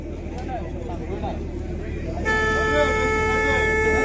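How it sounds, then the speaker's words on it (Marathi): A steady, loud horn blares at a kabaddi final, a sustained tonal blast that starts partway through and holds to the end over crowd noise and commentary. "भोंगा वाजलाय."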